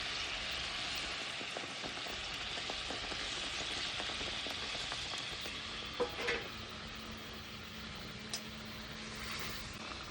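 Thin curry broth bubbling in a pan with fried fish for a doi katla (yogurt rohu curry), a steady soft sizzle and simmer throughout with a few brief clinks near the middle.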